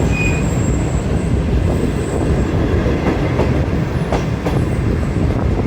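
Tezgam Express train of Pakistan Railways rolling and slowing near Okara station, a loud steady rumble of wheels on rails with faint squeals and clicks, heard close from on board.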